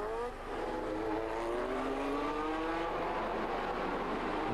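Historic pre-1977 Grand Prix race cars at Monaco, engines revving with rising and falling pitch as they pull away, loud and steady throughout.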